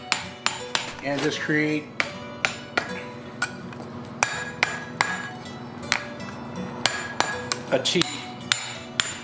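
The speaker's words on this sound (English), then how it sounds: "Using the cutoff hardy, I'm going to open up that saw mark, the split that I put in there," Steel being hammered over a cutoff hardy while forging blacksmith tongs, with a series of sharp, ringing metallic strikes in an irregular rhythm, close and loud, and a brief voice partway through.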